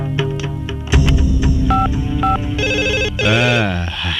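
A telephone rings and beeps in electronic tones, with voices talking throughout.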